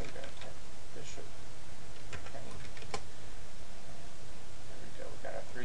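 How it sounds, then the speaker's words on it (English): Keyboard keys tapped to enter sports team names during data entry, sparse faint clicks in short irregular bursts over quiet room noise, with some speech close by. "Then I'm going to type in Glen Jesuit."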